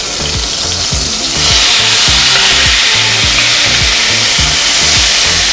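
A piece of beef dropped into very hot oil in a pan, bursting into a loud, close, steady sizzle with crackling spatter that intensifies after the first second.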